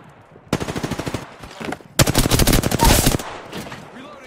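Rapid automatic fire from an R99 submachine gun in the video game Apex Legends: two loud bursts of fast, evenly spaced shots, the second longer, with quieter game noise and brief talk in between.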